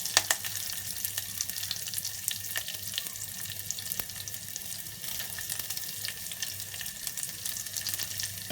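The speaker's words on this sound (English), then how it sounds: "Then I'm adding the curry leaves. Then I'm adding the sliced onion." Sliced onion and curry leaves fry in hot oil for a mutton bone rasam, giving a steady, close, bright sizzle with occasional crackles and pops, heard alone without any talk.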